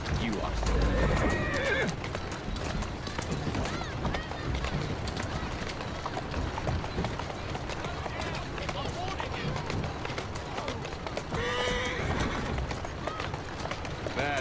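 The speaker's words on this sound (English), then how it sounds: "Who's a good horse?" Horse neighing and galloping hooves in the Assassin's Creed Syndicate video game, with whinnies near the start and again later over a steady clip-clop of running hooves, under brief speech and other game sounds.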